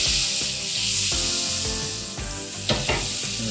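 Butter and a little oil sizzle steadily in a hot frying pan, a continuous close hiss with a few scraping stirs and small pops, no talking.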